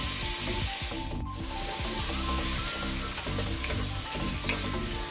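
Onions and greens frying with grated ginger in a soup pot give a steady, close sizzle with scraping stir strokes throughout, briefly dipping before settling into a continuous crackle.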